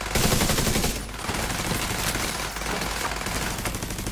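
Dense, continuous gunfire in the game The Division 2, rapid overlapping shots and bursts filling the whole stretch at steady high loudness, with no talk over it.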